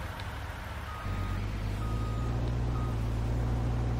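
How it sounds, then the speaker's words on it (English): Truck reversing beeps in Farming Simulator 19, a steady series of evenly spaced electronic beeps over a continuous low diesel engine drone that grows louder after the first second. "Let's get another truck out there."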